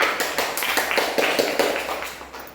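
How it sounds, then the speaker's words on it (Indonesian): Applause from a classroom audience for a student group, a steady, fairly loud patter of many hands clapping close by for a couple of seconds, tapering slightly at the end. "Tepuk tangannya mana?"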